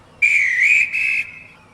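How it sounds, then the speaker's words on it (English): A railway guard's whistle on a station platform, one shrill sustained blast that briefly breaks and resumes before cutting off, loud and close with nothing else heard. "He ran onto the platform, blew his whistle"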